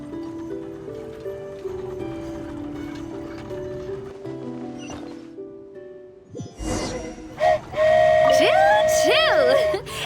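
An animated flying train, the Aerial Express, pulls away. Background music gives way to loud, wavering whistle-like tones near the end, which may come from a voice.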